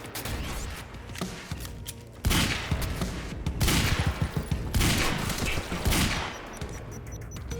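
Rapid bursts of gunfire from the video game Quantum Break, dense overlapping shots and volleys that swell into heavy sustained firing after the first couple of seconds, loud and continuous with no speech.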